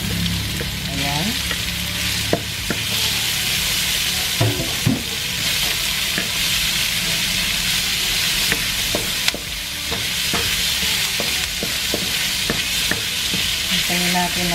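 Red onion frying in a pan, a loud, steady sizzle throughout with occasional stirring clatters and scrapes of a utensil against the pan.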